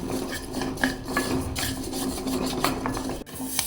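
Dry rice and lentils scraped and stirred around a hot pan while they roast, giving a steady raspy rubbing with scattered clinks of a spoon against metal, close up and continuous with no talking.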